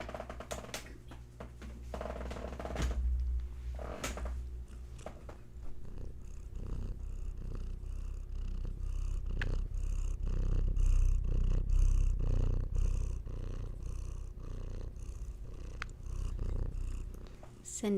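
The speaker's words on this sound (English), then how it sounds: "Sending some healing purrs to all of you wherever you happen to be." A domestic cat purrs steadily and close up, a low continuous rumble with soft rhythmic pulses, alongside light faint clicks and rustles in a quiet room.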